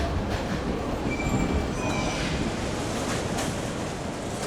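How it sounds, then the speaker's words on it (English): A subway train runs through underground tunnels of a capital's metro, a steady loud rumble and roar of wheels on track with faint high metallic squeals drifting in and out, no talk. "From here we go underground, entering the bright depths of the city, the subway, pride and joy of the capital."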